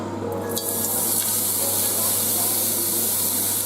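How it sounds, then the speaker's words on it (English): Smoked bacon sizzling in a pan over medium heat, a steady close hiss with a faint crackle that holds evenly throughout, no talking. "So we're now ready to start with the cooking of the bacon"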